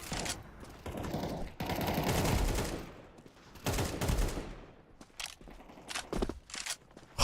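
Bursts of video game gunfire crackle in rapid volleys, dense and loud for stretches, then break into shorter scattered shots and footstep-like crunches toward the end.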